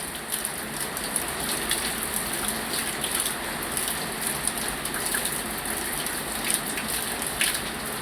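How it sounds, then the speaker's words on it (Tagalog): Heavy typhoon rain pours steadily, a dense hiss of drops drumming on a surface, continuous and close with no voices. "Malakas na po yung ulan"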